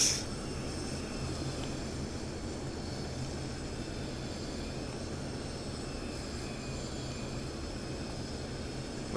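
A fixed-wing aircraft landing in the DCS flight simulator game, with a steady, loud propeller and engine drone that stays constant throughout and no speech.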